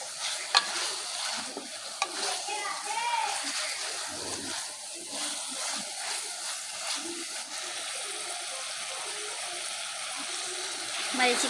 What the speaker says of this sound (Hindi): जिस कुकिंग ऑयल में हमने भिंडी को फ्राई किया है इसी कुकिंग ऑयल को ऐड करेंगे चिकन में। अब हम चिकन को भूनेंगे